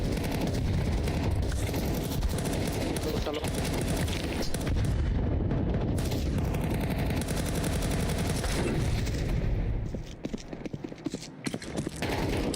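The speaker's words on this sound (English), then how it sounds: "Throwing a grenade." Dense, continuous Counter-Strike 2 gunfire and grenade blasts crackle and thump close by, a relentless barrage of shots and booms that thins out toward the end.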